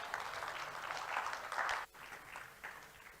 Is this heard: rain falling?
no